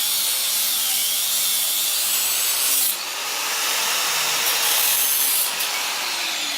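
A saw cuts through material for a custom removable core support on an S13 chassis during a 1JZ engine swap, giving a loud, close, continuous rasping with a brief pause near the middle.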